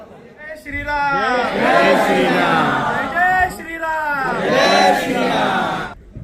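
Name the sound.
crowd of influencers thronging at a movie premiere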